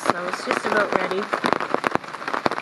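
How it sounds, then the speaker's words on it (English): Rain pattering on a silicone tarp at a lakeside campsite during a canoe trip, steady crackling drops close overhead while a person talks. "It's still raining"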